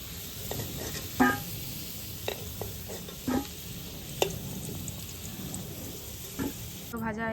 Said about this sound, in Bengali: তাই আলুগুলো আমি ভেজে নিচ্ছি